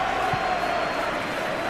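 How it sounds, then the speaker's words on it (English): A video game stadium crowd in PES 2021 during a Manchester City vs Liverpool match roars as a steady, dense wash of distant cheering, holding level throughout the brief moment. "it certainly got the crowd going"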